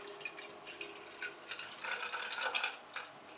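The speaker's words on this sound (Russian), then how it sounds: "берем мерочный стаканчик, наливаем в него рассол из-под зеленого горошка" Brine from canned green peas trickles faintly into a measuring cup in a kitchen, a quiet, uneven pour with light drips that grows a little stronger partway through and then tapers off.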